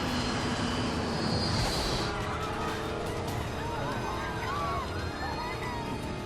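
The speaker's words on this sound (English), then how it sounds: "The plane is losing altitude and falling out of the sky." An American Airlines Flight 587 airliner losing altitude and falling from the sky, its engines roaring loud and unbroken with shifting whines and tones throughout.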